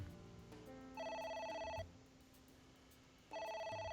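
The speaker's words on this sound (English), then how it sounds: "It won't stop ringing." Telephone ringing in the video game AI: The Somnium Files, two electronic ring bursts separated by a pause, heard faintly over quiet game ambience.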